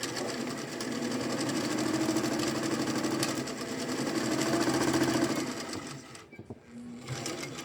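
A Singer 242 sewing machine stitches fine fabric in two steady, rhythmic runs, close and clear, then stops briefly before a short final whir.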